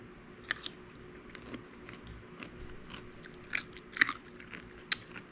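Someone bites and chews crunchy pickles, giving several sharp crunches and wet chewing sounds at irregular intervals, close and moderately loud, with no talking.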